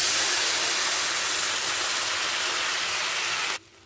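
Potatoes and greens frying in a pan hiss loudly as a splash of water is added, a dense, steady sizzle that cuts off abruptly near the end.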